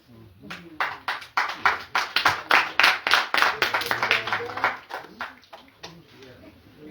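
Audience members clap at a genocide education event, a burst of hand claps building over several seconds and then thinning out, with voices talking over and through the applause.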